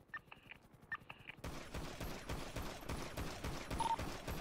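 A quick burst of rapid gunshots crackles in a GTA RP shootout on a cargo ship, following a few short electronic tones, with the dense firing continuing steadily to the end.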